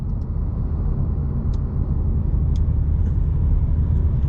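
A 2022 Audi S4 Premium Plus hums at low speed from inside the cabin, a steady loud low rumble of engine and road noise with a few faint ticks, no voices.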